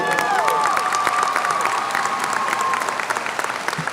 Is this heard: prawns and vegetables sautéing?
no